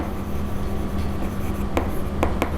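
A pen writing on paper during an accounting lesson: continuous soft scratching strokes over a steady hum of background noise, with a few brief sharper marks near the end.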